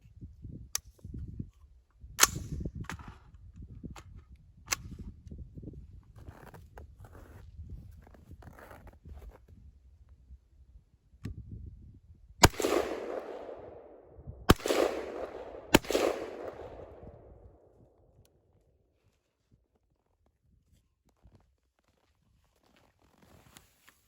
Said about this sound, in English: I just want to see how accurate we can get from 50 yards with a 3x magnifier, Palmetto State Armory AR-15.